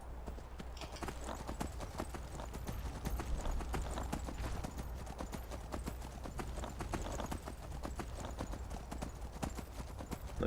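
Horse hooves clip-clop in a steady rhythm while riding through open terrain in the video game Skyrim, the hoofbeats continuous under a low game ambience.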